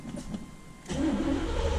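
A 1979 Chevrolet Corvette C3 engine cranks briefly with a faint starter whir, then fires and settles into a steady, loud, rumbling idle close by.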